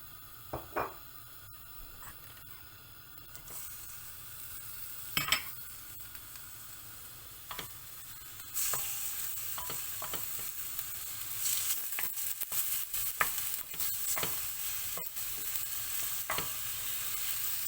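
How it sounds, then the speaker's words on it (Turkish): Lamb meat sizzles and sautés in olive oil in a pot, with intermittent stirring scrapes and clinks; the frying grows louder and steadier partway through. "Şimdi etimizi kavurarak devam ediyoruz."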